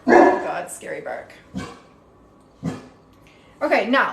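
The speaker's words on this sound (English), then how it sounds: "Scary bark." A dog barks several times in short, sharp bursts, fairly close and loud, spaced out with pauses, with a voice talking in between during a home hair-styling session.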